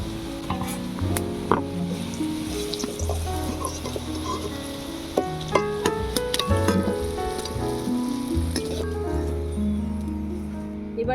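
Fried potatoes are lifted from oil in a chicken aloo kosha preparation, with a soft sizzle and scattered scrapes running under a prominent melodic background.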